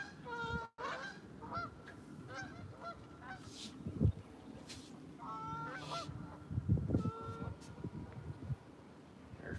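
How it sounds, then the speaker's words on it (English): A flock of about fifty geese gathered in a pond hole honks repeatedly at a moderate distance, overlapping calls rising and falling against outdoor background noise. "There's probably 50 geese over there in that hole."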